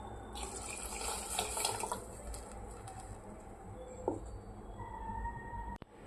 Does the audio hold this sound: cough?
no